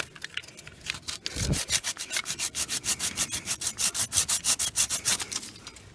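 A hand saw rasps through an 8-metre tree in fast, regular back-and-forth strokes, loud and close, with no other sounds.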